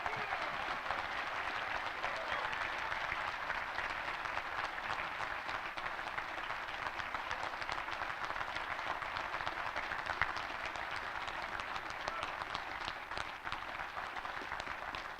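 Sustained applause from a cemetery dedication audience welcoming a retired Army colonel and Vietnam veteran, dense steady clapping holding evenly throughout without pause, no voices.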